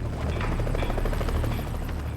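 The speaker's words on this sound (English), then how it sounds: "Time after time, the helicopter is forced back." A helicopter hovers near an Alpine mountain face in strong updraft winds, its rotor a loud, steady, continuous throb with dense low rumble and wind roar, no voices.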